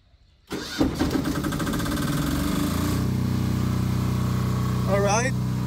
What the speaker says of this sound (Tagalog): Naka-prepare na yung ating diesel generator na mag-automatic switch kapag nawala ng kuryente.